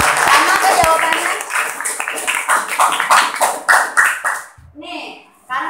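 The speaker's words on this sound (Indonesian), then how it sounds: "beri aplaus dulu" A classroom of students gives a student's answer a round of rhythmic clapping, mixed with voices talking throughout.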